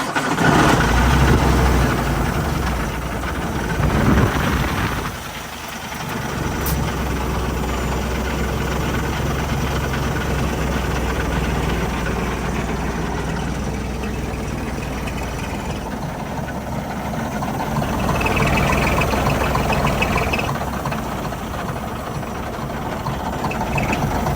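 A Cummins diesel engine with an EGR actuator problem runs steadily with a deep low rumble and a faint high turbo whine, holding a fairly constant loud level throughout.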